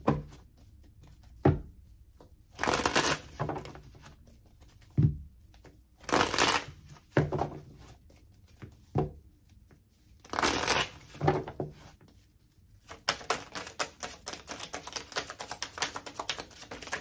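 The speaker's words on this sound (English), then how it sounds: "I'm going to shuffle all the cards out first" Tarot cards riffled and shuffled in several quick bursts with pauses between, then a longer run of rapid clicking flutter, close and crisp.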